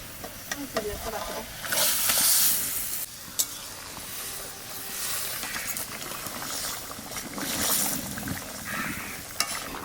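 Hilsa pieces go into boiling mustard-mixed water in a pan for sorshe ilish, giving a continuous close bubbling hiss with rising surges and a few sharp utensil knocks, a voice talking faintly at times.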